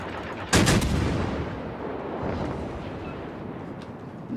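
A sharp, loud naval gun blast booms from the USS Dallas in World of Warships, then trails off into a long rolling rumble with fainter distant firing later, heard alone without talking.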